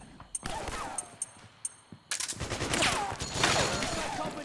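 Battlefield gunfire in the video game Metal Gear Solid 4: scattered sharp shots at first, then a sustained, dense fusillade of overlapping rapid bursts, loud and close, with soldiers shouting over it.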